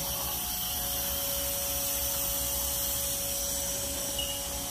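A 2016 Haas GR-510 CNC router spindle runs steadily as a continuous machine whine with a sustained tone over broadband shop noise, with no talk.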